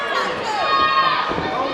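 A wrestling crowd at a live independent show roars in reaction to a near-fall pin attempt, a dense, sustained wash of cheering and shouting at steady loudness through the whole short burst.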